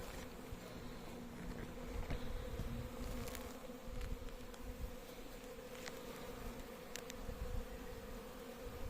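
Honeybees buzz at a beehive in an apiary, a dense, steady drone close by that holds throughout with no talking.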